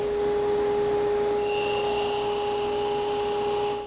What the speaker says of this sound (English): that sandpaper spindle is knocking it off